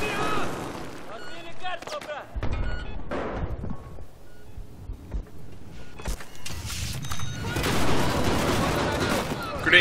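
Scattered gunfire and explosions in a Battlefield 4 match, bursts and thumps of varying distance, with a player talking over the action.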